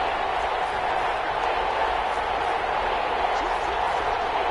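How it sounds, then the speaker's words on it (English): Loud, steady roar of a home stadium crowd at a Packers football game, a dense continuous wash of noise with no breaks, voices blended into one mass. "The crowd's not doing that O-line any favors."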